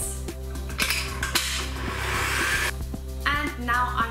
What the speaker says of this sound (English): now I'm going to add in my spelt flour and just give that a good mix